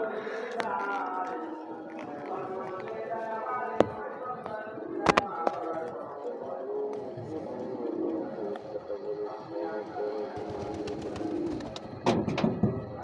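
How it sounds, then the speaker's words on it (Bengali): Young Sirazi pigeon chicks coo in soft, low repeated murmurs, with occasional sharp knocks and rustling nearby. "আমার সিরাজি কবুতরের বাচ্চা"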